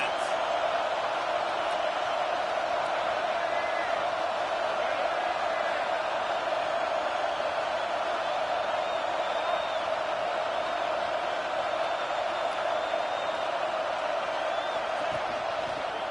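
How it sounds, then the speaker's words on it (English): Steady roar of a large stadium crowd at a Utah college football game, a dense continuous wash of cheering voices holding level throughout, with a commentator's voice faintly over it. "This crowd trying to make life miserable for this offense."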